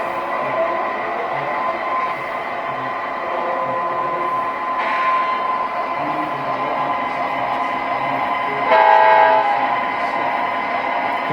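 MTH demonstrator diesel model locomotive 1201 running at a layout, with a steady mechanical hum and whine throughout, briefly swelling louder near the end.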